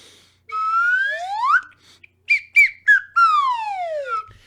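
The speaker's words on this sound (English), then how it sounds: "blowing the holy slide whistle" A slide whistle glides in long rising and falling sweeps, broken by a few short chirpy toots in the middle, loud and close.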